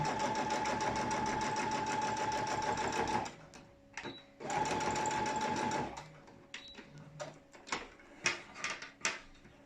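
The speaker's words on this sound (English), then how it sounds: "fold up and over and continue sewing down." A sewing machine stitches elastic onto a fabric face mask in two close, steady whirring runs of a few seconds each. Short clicks and handling noises follow as the fabric is adjusted.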